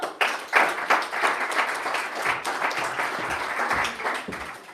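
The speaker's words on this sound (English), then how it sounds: "Give them applause." Audience applause at a startup night event as presenters come on stage, a dense wash of many hands clapping that swells at the start and holds steady throughout, fairly close and loud.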